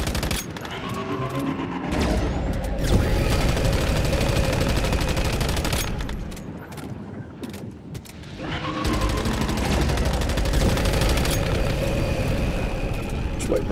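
Gunfire from shooting in the survival shooter Once Human, sustained loud bursts of rapid shots with a short pause in the middle before firing resumes, a voice speaking over it.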